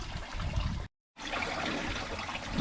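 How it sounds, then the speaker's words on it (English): Flush water trickles and splashes steadily from the cooling system of a Yamaha F/FL 200 outboard engine fitted with a flush muff on a pontoon. The sound drops out briefly, then resumes with no voices. "then just some of the excess in the cooling system runs through there"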